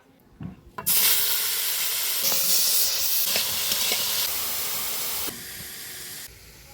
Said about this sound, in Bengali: এবার ভেজে নেব আলু সয়াবিনটা